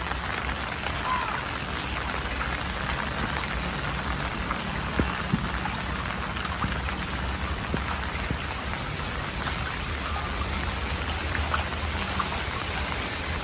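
Heavy rain pours onto a house terrace in a dense, steady patter that holds at an even level, close and continuous, with no voices.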